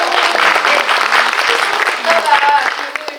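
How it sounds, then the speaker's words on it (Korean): Theatre audience applauding after a film screening and Q&A for a Korean action film, a dense, steady wash of many hands clapping throughout, with faint voices and a brief tonal call rising near the end. "여러분 박수 한 번만 해주세요."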